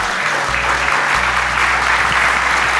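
A conference audience gives a panel on sustainable energy a warm round of applause, loud, even clapping from many hands in a hall, continuous throughout.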